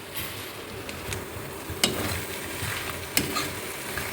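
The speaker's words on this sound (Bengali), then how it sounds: "এখন এটার মধ্যে মাছের মাথা মিশিয়ে দিয়েছি" A fish head being stirred into hot curry, giving a soft bubbling sizzle with a couple of sharp utensil knocks against the pot.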